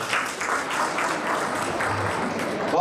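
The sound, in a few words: audience applauding a student at an award ceremony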